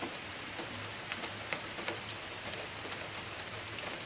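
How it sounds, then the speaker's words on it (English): Steady rain falling outdoors in New York, a constant hiss with scattered louder drops tapping nearby, continuous throughout with no voices. "It's raining pretty well here in New York."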